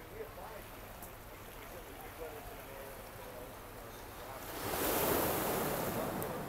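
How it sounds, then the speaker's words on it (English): Ocean waves at Mala at sunset hiss and wash in the background, swelling into a louder surge of surf near the end, with faint murmuring voices. "You can hear the ocean there in the background."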